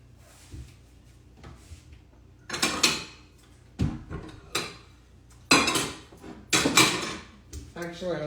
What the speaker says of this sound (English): Let's put it on a plate.